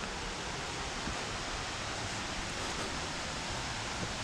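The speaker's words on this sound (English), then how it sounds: "I can hear water running from somewhere." Steady broadband rush of running water near a footbridge along a dismantled railway path in Bedford, continuous and fairly close with no voices over it.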